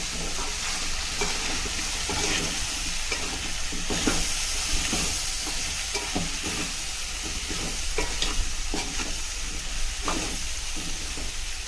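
Potato and bean pieces fry in oil for a beans curry, a steady close sizzle with the scrape and clatter of stirring repeating throughout, no voices.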